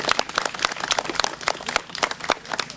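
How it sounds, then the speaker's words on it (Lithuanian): An audience applauds at an outdoor beekeepers' society anniversary celebration, with a dense patter of many hands clapping at an even, sustained pace throughout. "Čia turėtų būti plojimai."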